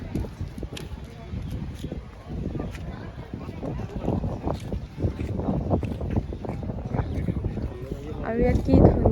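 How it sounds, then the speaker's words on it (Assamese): Wind gusts across an Andaman Islands shoreline lined with pines, buffeting the microphone in uneven low rumbles that swell toward the end, while people talk over it. "ইয়াত কি ধুনীয়া বতাহ মাৰিছে এইখিনিতে"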